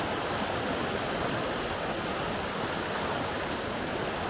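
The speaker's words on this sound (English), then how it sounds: "this one's got like a little fall or something" Water spills steadily over a small natural drop a couple of feet deep in the Pisgah National Forest along the Daniel Ridge Loop, a dense continuous rush heard up close with no voices.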